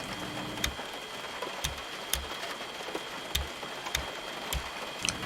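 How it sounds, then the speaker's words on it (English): Cockpit switches in a vFlyteAir Cessna 150 in X-Plane 11 click one at a time, sharp separate clicks spaced about half a second to a second apart over a soft steady hum. "Every switch I could find had the exact sound, listen."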